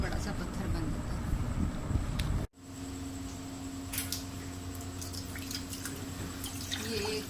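One cup of water pours into a pan for boiling while making magnesium oil from Epsom salt flakes, a steady close rush that cuts off abruptly, followed by a quieter continuous hiss.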